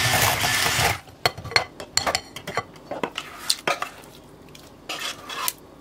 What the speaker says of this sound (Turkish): Soğuttuğum kremayı kaşık kaşık içine ekleyerek çırpmaya devam ediyorum.